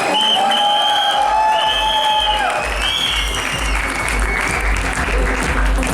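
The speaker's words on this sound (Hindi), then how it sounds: "दोनों के लिए जोरदार तालियां होनी चाहिए" Loud applause from an audience at a payout celebration event, a dense sustained wash of clapping that builds and carries through the whole stretch, with faint tonal sounds fading out early on.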